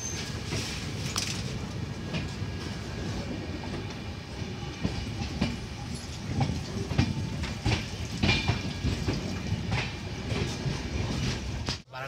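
The Marudhar Express passenger train rolls into Akbarpur station, a steady loud rumble of wheels and carriages with irregular clacks and rattles of rail joints, heard from on board.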